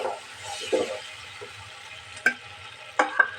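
A sauce of chili, soy and tomato sauces cooks in a pan while a utensil stirs it, giving soft sizzling with scattered scrapes and a few sharp clinks of metal against the pan.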